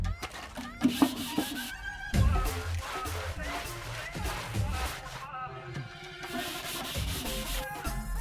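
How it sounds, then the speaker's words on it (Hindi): Something that has gone unwashed for a long time is scrubbed hard, with repeated rough rubbing strokes mixed with music and voices. "बहुत दिन के बाद धुल रहा है बहुत घिसना पड़ेगा"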